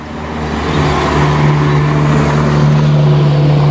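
Close car engine hum and tire rumble as a vehicle moves near a pitbull, swelling slightly and holding a steady tone without voices.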